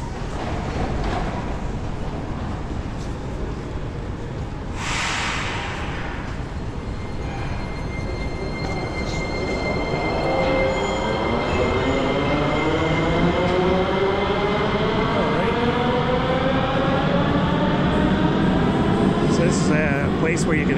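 Metro train ride in Sofia, Bulgaria, a steady loud rumble and rising whine of the carriage running throughout, with a brief hiss near the start and people talking faintly over it.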